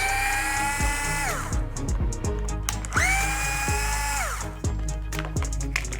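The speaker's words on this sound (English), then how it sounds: "now let's remove these 2 screws for the side plastics." A power tool removes screws from the plastic side panels of a Losi ProMoto MX RC motocross bike, with two close whirring bursts that spin up and wind down, separated by brief clicks and handling noises.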